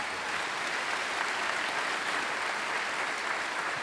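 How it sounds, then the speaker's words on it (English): Dense, steady applause from the audience at a North Idaho College 2025 commencement ceremony, continuous and evenly loud throughout with no gaps. "Please join me in a round of applause recognizing them."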